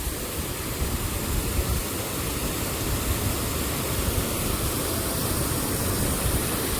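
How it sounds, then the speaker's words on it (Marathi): A waterfall in a forest roars loud and close, a dense, unbroken wash of rushing water that fills the whole stretch with no break. "पाण्याचा आवाज येत असेल तुम्हाला."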